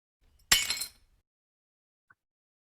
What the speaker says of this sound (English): So I've got here like the glass break labels. I can select each of them and